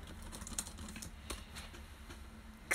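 Fingers type on a computer keyboard in short, quiet bursts of clicking keystrokes, close and alone, with a slightly louder clatter at the end.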